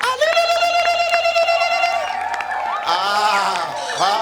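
An audience at a school award ceremony lets out high, wavering ululation and cheering, loud, close and sustained, with a strained trilling quality.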